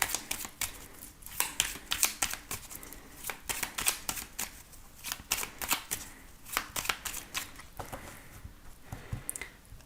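Tarot cards riffled and cut by hand, a rapid run of crisp flapping bursts and soft slaps repeating across the whole stretch, close and clear with no voice.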